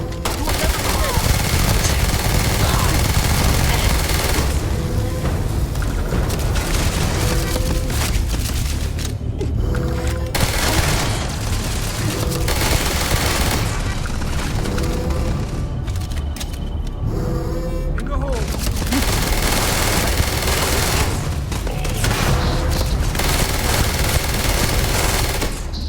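Sustained loud automatic gunfire from a weapon in the space game Starfield, rapid bursts filling most of the stretch with a few brief pauses and booms, a voice occasionally heard beneath the shooting.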